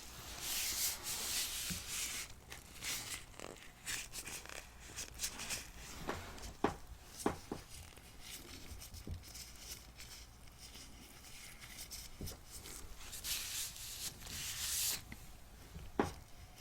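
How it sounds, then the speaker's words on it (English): Gloved hands rub a very damp scalp vigorously, giving close, continuous wet friction with scratchy swells and occasional sharper taps, heard alone without talk. "A little bit more vigorously rub this into your scalp, okay?"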